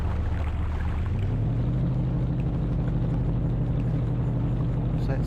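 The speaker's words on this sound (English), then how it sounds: "Probably need a bit of help from the engine again." A yacht's engine drones at a steady low pitch in the Esail sailing simulator video game, a constant hum with no change in rhythm and no voices.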